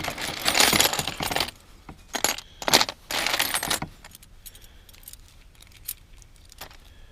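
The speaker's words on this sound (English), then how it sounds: "Oh, it's all keys." Pile of old keys, including worn master lock keys, jangling and clinking in several loud bursts, then small scattered metallic clicks fading to quiet, with no speech.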